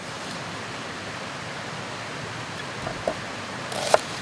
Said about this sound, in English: You can hear the creek running back there behind us.